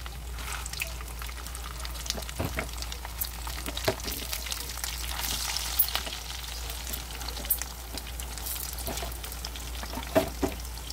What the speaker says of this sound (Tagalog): Yan, nagluluto ako ng hotdog dito. Piniprito ko